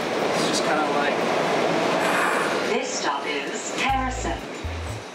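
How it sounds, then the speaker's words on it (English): Steady rumble and rattle of a train in motion, a continuous noisy roar with faint clicks and a voice murmuring underneath. "After a 30-minute train ride"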